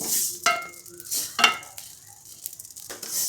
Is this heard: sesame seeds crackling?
yes